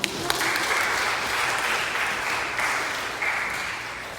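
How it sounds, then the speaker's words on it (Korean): A church congregation, including a youth group, gives a steady round of applause, moderate and continuous, filling the hall without talk. "박수 한번 쳐주세요."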